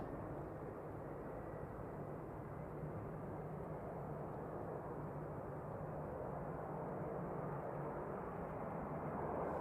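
An airliner takes off from Christchurch Airport in thick fog, heard as a steady, distant roar of jet engines that holds level and swells slightly toward the end, with no voices.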